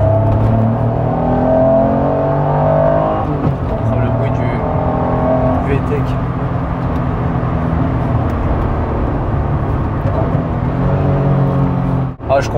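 A Honda NSX sports car drives with a steady engine drone and rising revs heard from inside the car, under constant conversation between the occupants.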